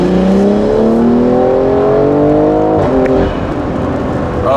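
A big-turbo BMW M340i on an XHP stage 3 tune pulls hard in third gear, its engine note rising steadily in pitch from close range, then briefly easing off near the end.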